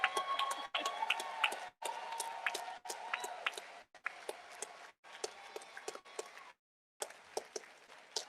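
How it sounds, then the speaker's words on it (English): Rally crowd at a voting rights event clapping and cheering in bursts, with sharp hand claps and whoops rising and falling, broken by short silent gaps, fairly distant. "I want you all to keep clapping because there's a giant among us."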